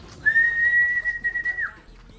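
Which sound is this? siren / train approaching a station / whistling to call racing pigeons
whistling to call racing pigeons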